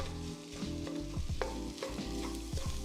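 Eggs are stir-fried and mixed in a pan for shrimp fried rice, a continuous loud sizzle broken by repeated scraping strokes of a spatula at a quick, regular pace, with no voices.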